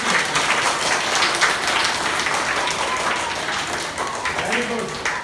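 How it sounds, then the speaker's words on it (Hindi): A room full of children in a Class 4 school session claps for their classmates with steady, dense applause that holds at an even level throughout. "तो सारे बच्चों के लिए ताली बजाओ।"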